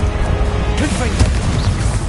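Confringo fire spell cast in Hogwarts Legacy: a punchy fiery burst with crackling booms and a whooshing flare, loud and dense across the short moment with layered impact thuds.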